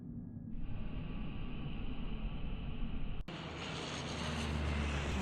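A small airplane's engine drones in the PC adventure game Secret Files: Tunguska, loud and steady; after a sudden cut it returns as a fuller, rising roar.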